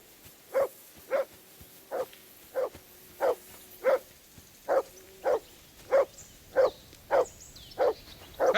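A dog in the medieval role-playing game Kingdom Come: Deliverance 2 barks steadily and repeatedly, about fifteen evenly spaced, fairly loud barks in a row over quiet background ambience.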